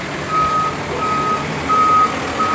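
A truck backing up, its reversing alarm sounding steady evenly spaced beeps over a low engine rumble outdoors.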